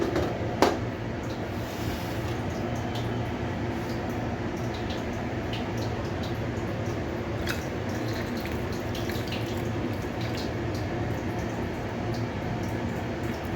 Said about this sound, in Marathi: आता यामध्ये थंडगार माठातले पाणी घालत आहे.